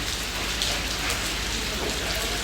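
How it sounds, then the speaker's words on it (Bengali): Heavy late-afternoon rain pouring in Malaysia, a dense continuous hiss of drops hitting surfaces, steady and loud throughout with no talk. "দেখেন প্রতিদিন এভাবে একই টাইমে বৃষ্টি হয়"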